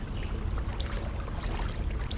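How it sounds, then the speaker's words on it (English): Fast river water rushes in a canoe video game set in Alaska, where the current picks up near rapids, giving a steady broadband rushing and splashing wash with no breaks. "Look at how fast the water moves over there."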